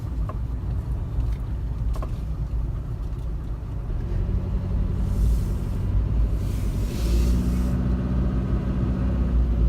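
A large vehicle approaches on a busy city road near Wonju's central market, heard from inside a car as a low engine rumble that swells louder over several seconds above the steady traffic noise.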